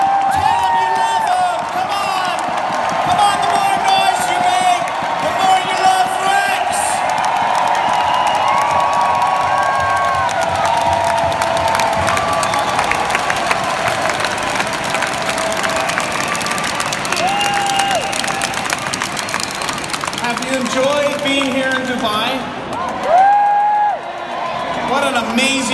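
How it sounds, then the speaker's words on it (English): A large crowd at a global rally in Dubai applauds and cheers in steady, sustained noise lasting throughout, with an amplified voice and music mixed in over the clapping. "Give a big round of applause"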